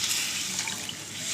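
Water poured into a pea fritter curry in a pot: a steady, close hiss of flowing liquid runs unbroken for a moment at moderate level.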